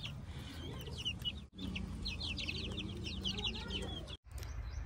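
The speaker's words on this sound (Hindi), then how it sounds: "ये माशाल्लाह चूजों वाली मुर्गी है।" A hen with a fresh brood of thirteen chicks clucks close by in a village yard, the chicks peeping in rapid high chirps over a steady low background, with two brief dropouts in the sound.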